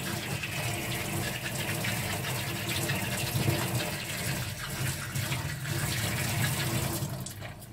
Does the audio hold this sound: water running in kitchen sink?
yes